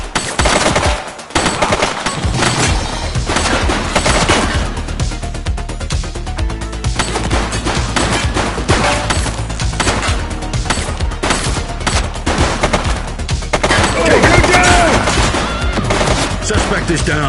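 Sustained gunfire as a woman shoots in a police confrontation, dense rapid shots and cracks running almost continuously at high volume, with voices shouting in between.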